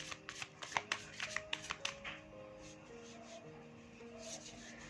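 Tarot cards are shuffled close up, a quick run of soft riffling slaps and flicks in the first two seconds, then quieter rubbing over faint background music.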